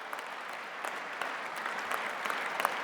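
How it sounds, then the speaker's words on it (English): Sustained applause from diners at a fundraising dinner in New York, an even, dense clapping with no break across the short stretch. "Give him a round of applause."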